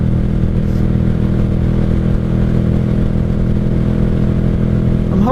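A 1995 Honda Shadow VLX 600 V-twin motorcycle engine held at wide-open throttle in third gear around 55 mph, a loud, steady low-pitched drone with a throbbing rumble and wind roar, continuous with no talk.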